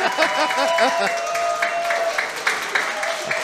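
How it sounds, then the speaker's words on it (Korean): Audience applause: brisk crowd clapping under loud voices and cheering, fairly close, continuing for a few seconds. "정청래 법사위원장의 박수!"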